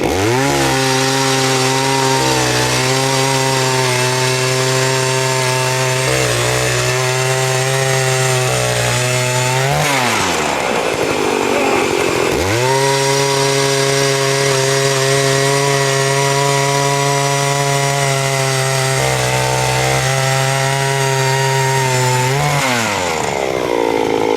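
An Eskimo E40 battery-powered electric ice auger drills through ice in a race, its loud, steady motor whine running continuously, dropping out briefly midway before a second drilling run starts and ends.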